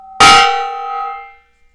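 A decorative gong in a home workshop is struck once, a loud metallic clang with bright ringing tones that sustains and slowly fades over about a second before falling silent.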